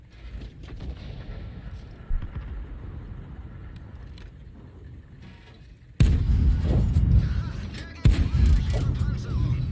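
A tank cannon in World of Tanks fires twice in quick succession, each a sudden loud blast with a booming rumble, after a stretch of low engine and battlefield noise with someone talking faintly.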